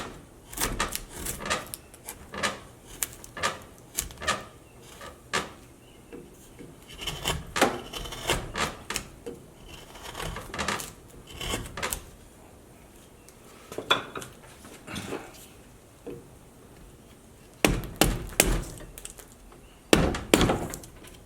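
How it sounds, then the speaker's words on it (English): A carving gouge cuts across a wooden figure in irregular scrapes and sharp clicks, some soft and some crisp and close, with short pauses between the strokes. "While I'm cutting across here, I'm either using the side of this gouge or the heel."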